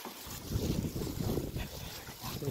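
Wind gusting across an open hilltop where a São João bonfire is being built, a continuous low rushing buffet against the microphone that swells and eases for a couple of seconds.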